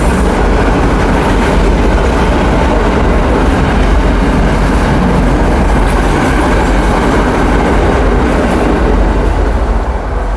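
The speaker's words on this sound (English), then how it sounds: "The train go by." A train passing by close and loud, a dense continuous roar of rolling wheels and rattling cars that holds steady throughout with no voices.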